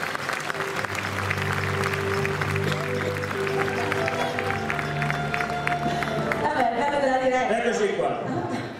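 Crowd applauding at the Soriano nel Cimino festival historical procession, a sustained wash of clapping and light cheering mixed with voices and background tones, steady and moderately loud throughout.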